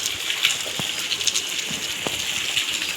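Light, gentle rain falls in a Gujarati village, a steady soft hiss with scattered close drips and drops, and no voices.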